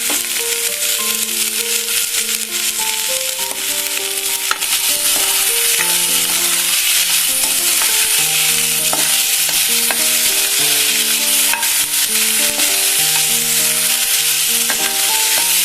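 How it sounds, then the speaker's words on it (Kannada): Mutton masala frying in a pan and being stirred, a steady loud sizzle with continuous scraping and stirring, close up and without speech. "ಸ್ವಲ್ಪ ಸ್ವಲ್ಪ ಆಗಿ ಫ್ರೈ ಆದರೆ ಸಾಕು"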